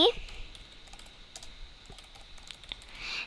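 Someone types an e-mail address on a computer keyboard, with light scattered key clicks at an uneven pace, fairly close and soft over a quiet room.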